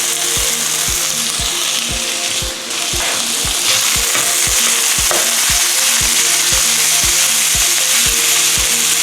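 Ground pork frying with softened onions in a pan, a steady loud sizzle with a regular knocking of a spatula breaking up the meat throughout, no talking.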